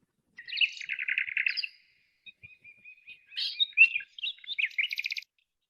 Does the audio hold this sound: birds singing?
yes